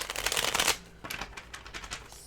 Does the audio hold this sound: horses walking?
no